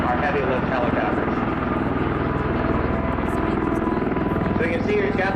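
A V-22 Osprey tiltrotor's engines roar at full throttle on takeoff, a dense, loud rotor drone holding steady throughout with a voice talking over it.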